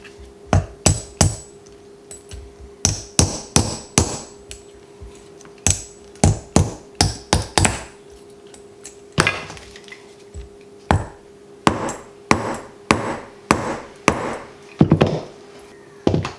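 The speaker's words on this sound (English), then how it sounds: "Just push the rivet through just a little bit more and just hammering that into place." A hammer striking a soft brass rivet through a leather belt, with dozens of sharp, close, loud blows in quick bursts of two to five, separated by short pauses.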